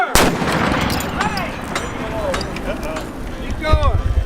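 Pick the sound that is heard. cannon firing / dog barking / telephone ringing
cannon firing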